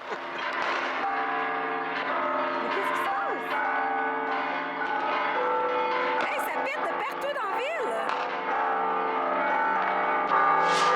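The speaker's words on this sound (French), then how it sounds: "les cloches de l'église pétochent" Church bells ring out in Taxco, Mexico amid a fireworks celebration, a dense layered peal of overlapping strokes, loud and continuous, with a crowd and voices murmuring underneath.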